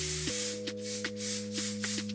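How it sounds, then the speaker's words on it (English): Amika hairspray sprayed onto styled curly hair gives a steady, close, continuous hiss lasting about two seconds over a faint low hum. "Going in with one final spray with that Amika hairspray."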